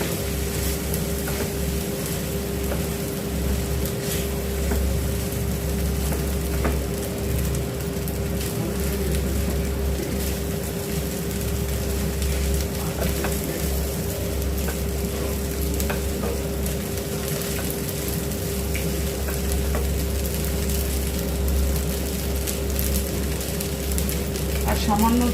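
Pasta stirred with a splash of vinegar in a hot pan, giving a steady, loud sizzle and frying hiss that runs unbroken for the whole stretch, with a low constant hum beneath and occasional scrapes.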